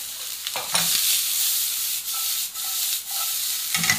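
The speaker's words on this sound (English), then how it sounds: "I'm going to add everything else, so all the other veg, so spring onion, red pepper" Spring onion, red pepper and butternut squash go into a hot pan with sausage for an egg hash, setting off a loud, close, continuous sizzle with scraping stirs and no talking.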